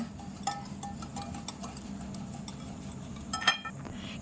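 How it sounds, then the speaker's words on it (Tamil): Vanilla essence being stirred into tumbler cake batter: a spoon ticks and clinks against the bowl in a quick, steady rhythm, close and moderately quiet, with one sharper knock near the end and no talk. "வெண்ணிலா எசன்ஸ் போட்டு கலக்கிங்க."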